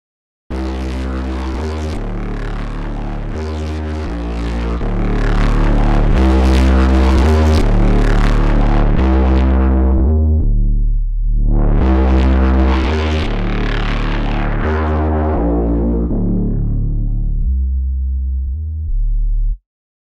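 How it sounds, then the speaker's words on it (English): A synth loop run through an AF4 analog filter with drive and distortion, a thick, buzzing, harmonically rich tone that sweeps darker, briefly drops nearly silent, then swells back, continuing loud and alone for twenty seconds. "This has got some tasty drive on it, so I can filter off the top end whilst adding some more distortion."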